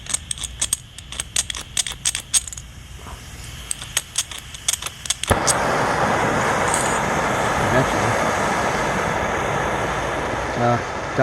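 Propane torch burning pine boards for shou sugi ban, preceded by sharp clicks and taps, then a loud steady roaring hiss of the flame that continues to the end.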